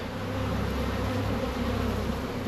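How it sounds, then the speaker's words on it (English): A dense, steady drone of many bees buzzing in flight, loud and continuous throughout with no voices. "that bee flight and bee sound is epic"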